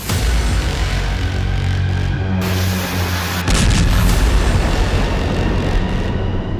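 A Spike missile slams into containers stacked one on top of another, a loud boom with heavy rumbling blast noise that swells and persists throughout, a second surge of impact roar partway through.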